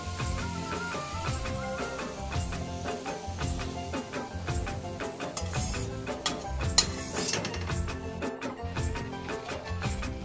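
Onions fry in oil in a wok for a crab bhuna, soft sizzling mixed with clinks and scraping of a spatula against the pan, fairly faint and continuous.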